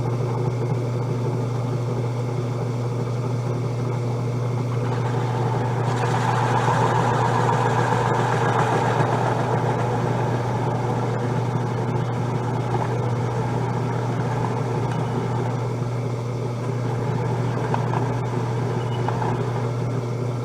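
A drill press runs with a steady mechanical motor drone and strong low hum throughout, a brighter whirring whine rising in the middle as if under load while working MDF.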